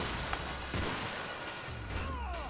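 Heavy machine gun fire in Call of Duty: Modern Warfare 3 forms a dense, continuous rattle of shots that stays loud and close for the whole stretch, with no voices over it.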